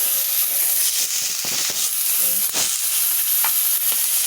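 Water poured onto anchovies frying in a small wok sets off a loud, steady hissing sizzle, with stirring clinks and bursts of spattering throughout.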